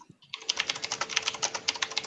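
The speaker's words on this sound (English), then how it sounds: "Who's typing?" Rapid clattering keystrokes on a computer keyboard, close and fairly loud, in an irregular quick rhythm after a brief quiet start, no voices.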